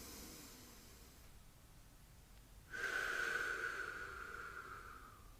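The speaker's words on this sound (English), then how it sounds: "So let's just take a deep breath and feel that love in us and feel that love in all." A single slow, deep breath drawn in by a person, a soft breathy rush that rises suddenly and then tapers off over a couple of seconds against a quiet room.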